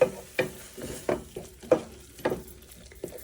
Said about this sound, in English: So now that everything has gone in, I'll saute it for another 30 seconds